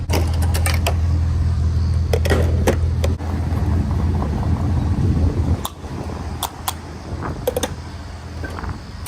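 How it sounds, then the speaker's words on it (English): Parked car left with the engine running, a steady low idle hum and fan-like whir filling the background, with a few brief clicks and knocks and a slight drop in level partway through. "Oh no, I forgot to turn my car off"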